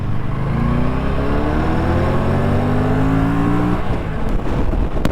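An Aprilia RS457 sport motorcycle engine revs steadily upward in pitch, the drone rising continuously before easing off, close and dominant with no talking.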